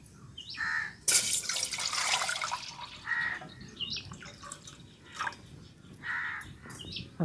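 Water runs into a cooking pot set on a lit stove in a home kitchen, coming in intermittent splashing gushes and trickles close by, with bird calls sounding in the background.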